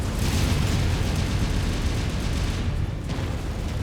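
Fuel tanks exploding in MechWarrior 5, a sustained loud, dense roar of blasts and rumbling debris that holds steady for several seconds, briefly dipping near the end before swelling again, with no voices.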